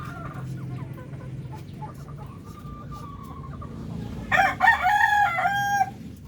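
Hens cluck softly in a Filipino backyard flock, then a rooster lets out a loud, close crow near the end.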